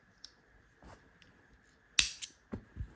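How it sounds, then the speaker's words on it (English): Scissors snipping yarn during a crochet project: a few faint ticks, then two or three crisp close snips near the end, quiet and isolated with no talking. "this is where you can go ahead and cut your yarn here"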